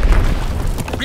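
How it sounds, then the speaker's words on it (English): A bomb blast in the World War II shooter game Call of Duty: WWII lands as a deep, loud boom with rumbling low end, sitting under a game announcer's voice. "Dropping Blitzex bomb."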